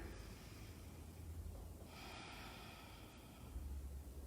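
Slow, deep breaths drawn and released during a challenging lying-down yoga pose, soft and close, with a steady airy hiss and a louder exhale toward the end.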